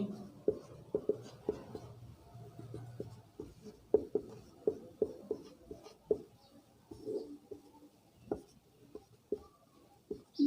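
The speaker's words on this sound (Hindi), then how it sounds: "एक परिभाषा ऐसे लिख करके बता दूंगा" Pen or chalk strokes writing out a physics definition of force by hand, a steady series of short scratching taps and rubs, close and fairly quiet with no talk.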